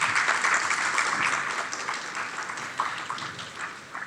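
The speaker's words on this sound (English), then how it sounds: "So please give them all a round of applause." An audience applauds university council and faculty senate leaders at a town hall meeting. The clapping is dense and steady, then thins and tapers off slightly toward the end.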